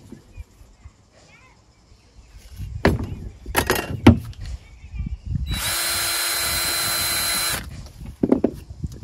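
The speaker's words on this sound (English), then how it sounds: "be careful you don't drill all the way through, hit your hand." A power drill drilling into a bar of soap runs steadily for about two seconds, preceded by scattered knocks and handling noises, with a few clicks afterward.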